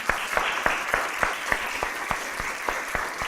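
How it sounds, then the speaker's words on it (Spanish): Church congregation clapping during a Spanish-language sermon, with sharp, fairly regular claps repeating roughly every third of a second at moderate level over a diffuse room wash. "Démosle un aplauso a Jesús."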